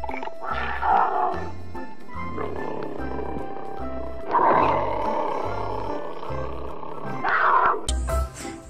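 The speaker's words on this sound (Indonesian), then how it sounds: "Ada satu ekor harimau nih teman-teman." Tiger in the video game Jurassic World Evolution 2 lets out three loud, growling roars spaced a few seconds apart, each swelling and fading, over a low rumbling game background with a sharp higher sound at the very end.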